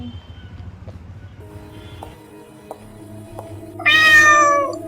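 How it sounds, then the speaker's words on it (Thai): A cat gives a single short, clear meow near the end, after quiet background rumble and faint scattered noises. "เอ้ยเจ้าแมวมานี่มา"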